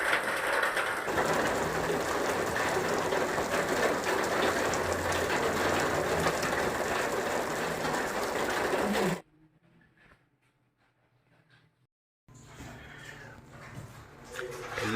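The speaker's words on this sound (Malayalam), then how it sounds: "നന്നായി മഴ പെയ്യുന്നു" Heavy rain falls in Munnar as a dense, steady hiss that cuts out briefly near the end, then returns more faintly.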